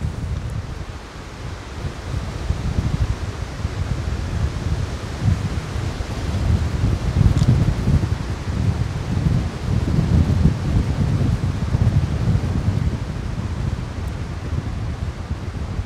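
Steady wind buffets the microphone outdoors, a continuous low rumble with rustling gusts throughout and no talking.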